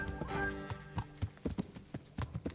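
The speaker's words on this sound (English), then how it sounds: "I'm mounting up, you silly horse." Horse hooves clip-clop in Kingdom Come Deliverance, a steady run of distinct thuds at a walking pace, fairly close, with a brief neigh-like tone near the start and no talking.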